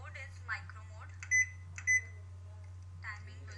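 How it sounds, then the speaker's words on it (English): A microwave oven on micro mode hums steadily with a paper bag of popcorn revolving inside, a low constant drone broken by a few faint clicks, with no one speaking. "You can see here the paper bag is also revolving inside the microwave."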